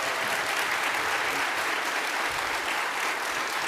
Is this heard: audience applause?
yes